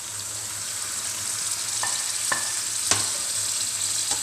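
Chicken pieces drop into masala frying in oil for a chicken and mooli salan, giving a steady close sizzle with a few sharp clinks and thumps of ingredients and a spoon, no talk.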